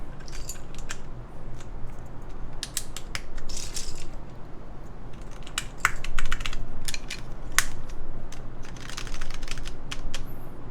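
Keys clack on a gasket-mount mechanical keyboard, a Lunar II build fitted with Japanese sub-legend keycaps, in steady close typing with soft, muted clicks and occasional louder strokes.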